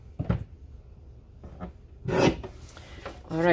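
A paper trimmer slices a strip of paper for a scrapbook page kit, with a scraping rasp of the blade across the sheet and some handling rustles, close up and without talk.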